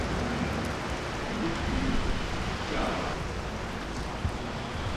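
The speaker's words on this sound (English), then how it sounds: "It started raining." Rain beginning to fall in Delhi at dawn, a steady soft hiss of drops on city surfaces, constant and fairly close with a faint occasional patter, no voices.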